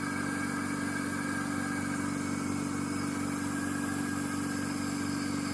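A Mercury outboard motor on a boat runs at a steady idle, a continuous droning engine hum with an even, unchanging level and no voices.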